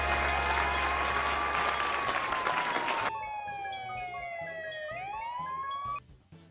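Loud applause from a crowd for a few seconds, then a rising and falling siren wail carries on alone before cutting off.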